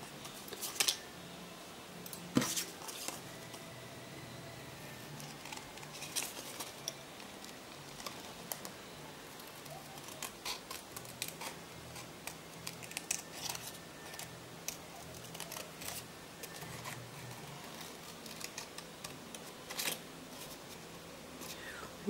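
Scissors snip through scrapbook paper in a run of small, irregular clicks and crisp cuts, scattered close by over a quiet room background.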